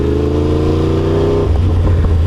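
Motorcycle engine held at steady revs, then the throttle rolls off around the midpoint and the tone drops into a lower, rougher idle-like rumble as the rider brakes during a braking drill; close and loud, no talking.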